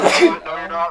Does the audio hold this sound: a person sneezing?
yes